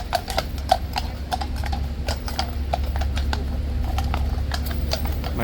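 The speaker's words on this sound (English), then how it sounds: "Goodbye, big clippy cloppy beauty horse." Horse hooves clip-clop steadily on the ground as mounted guards' horses stroll leisurely back in through the arches on a rainy day, a clear irregular series of hoof strikes over a constant low rumble.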